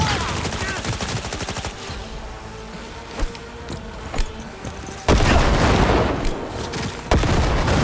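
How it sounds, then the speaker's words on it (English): Rapid automatic gunfire in the video game Cyberpunk 2077, a fast stream of shots at the start and then scattered single cracks, ending in a loud, dense burst of firing over game background noise. "I'll shoot him down!"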